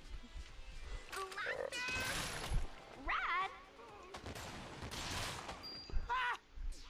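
Gunfire in the video game Lollipop Chainsaw, a few sharp shot bursts scattered among game effects and short character vocal cries, with no clear ordinary talk.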